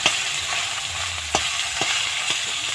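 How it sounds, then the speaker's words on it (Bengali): Fish fry in hot oil in a wok with a steady close sizzle, broken by a few sharp clicks and stirring noises, with no speech. "এবার মাছগুলো আমি একে একে ভেজে নেব।"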